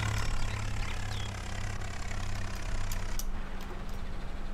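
Tractor engine running in Farming Simulator 19, a continuous dense low rumble with a steady hum, unchanging and close for the whole stretch.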